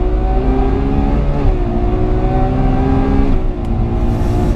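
A Ferrari 812 Superfast V12 on a race track revs hard under load, its loud, steady engine note climbing, dipping briefly through a gear shift, then pulling up again, close and continuous.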